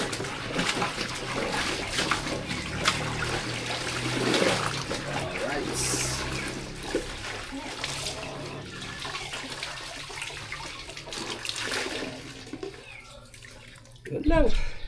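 Water sloshing and splashing steadily as laundry is rinsed, with a few heavier splashes, fairly close.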